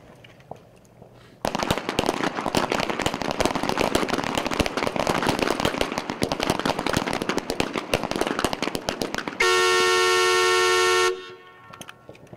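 Rapid pistol shots crack out in a dense, continuous volley at a military combat pistol match on an outdoor range, loud and close, followed by a steady high-pitched tone near the end.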